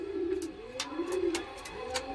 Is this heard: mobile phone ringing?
no